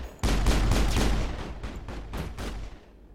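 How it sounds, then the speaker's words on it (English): Loud, close automatic gunfire from shooting an enemy in the Mass Effect video game, a rapid burst of repeated shots that slows into a few spaced rounds before trailing off. "Shooting him in the butt."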